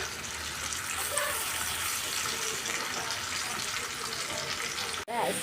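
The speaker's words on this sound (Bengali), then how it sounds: "এই যে মাছ ভাজা।" Fish fries in a pan, a steady dense sizzle and crackle of hot oil running throughout at close range, briefly cut off near the end.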